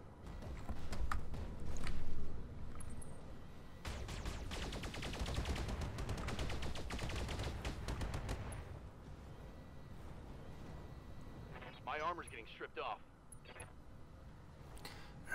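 Mech weapons firing in the Roguetech battle game, a dense stretch of rapid overlapping blasts and rattling impacts that swells loud then trails off, followed by scattered fainter shots and electronic bursts.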